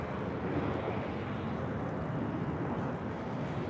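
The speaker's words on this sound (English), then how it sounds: "Southwest Airlines Flight 360, coming in from Reno, Nevada, at" A Southwest Airlines Boeing 737-800 lands at LAX, its jet engines a steady, broad roar heard from a moderate distance with no clear rise or fade.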